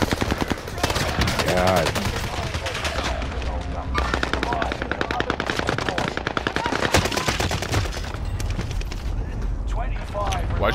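Rapid gunfire in Call of Duty: Modern Warfare, with loud continuous machine-gun bursts and overlapping shots almost without a break throughout. Players talk over the shooting.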